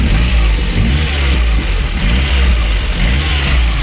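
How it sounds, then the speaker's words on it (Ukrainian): A VAZ 2109 car engine, after a cylinder head gasket replacement, idles steadily up close, a low continuous rumble with a slight uneven throb and no talking. "Так працює наш двигунчик."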